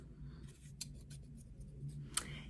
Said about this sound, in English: You'll need a pair of scissors.